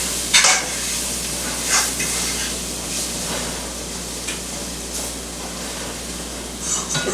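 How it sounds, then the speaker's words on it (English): Metal fork scraping fried beef bits off the bottom of a pan while making hamburger steak, a steady low sizzle with a few short, sharper scrapes spread across the moment, no voices. "scraping the bits of beef off the bottom"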